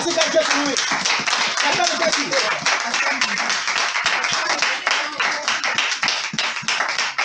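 A church congregation claps to acclaim Jesus, a dense, rhythmic wash of many hands beating together, with voices shouting and talking over it throughout.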